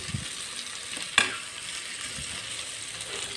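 Carrot and capsicum stir-fry in a pan for street-style Assam chowmein: a steady, close oily sizzle with one sharp utensil clack partway through and no voices.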